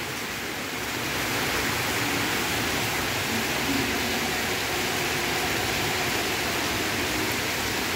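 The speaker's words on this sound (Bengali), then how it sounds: "এখন বৃষ্টি চলছে খুব জোর," Heavy rain pours down in Behala, Kolkata, after a storm, a steady dense hiss that rises slightly in the first second and then holds even and loud with no voices.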